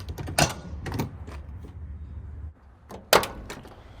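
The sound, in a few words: 1977 Ford F100 truck door opening and closing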